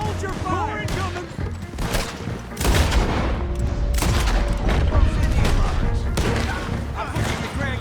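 Gunfire in a Red Dead Redemption 2 firefight: dense volleys of shots and heavy thuds, loud and continuous across the scene, with voices talking over the shooting.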